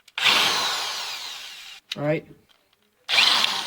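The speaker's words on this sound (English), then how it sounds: "I'm going to hook it up to the power drill here." A power drill spins a rusty bolt in two loud, sustained whirring bursts, each over a second long, separated by a short spoken word and a brief pause.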